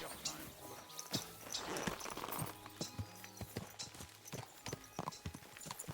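Horse hooves clip-clopping in the video game Kingdom Come: Deliverance 2, irregular close hoof strikes on hard ground mixed with footsteps while people talk over them.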